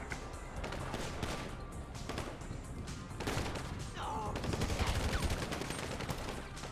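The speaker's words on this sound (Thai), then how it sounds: "เพื่อนมันยิงตัดหน้าแล้วเรายิงไม่โดนหัวมันเลย" Rapid bursts of gunfire in the GTA V zombie mod, with dense overlapping shots and rattling volleys continuing throughout, growing heavier toward the end.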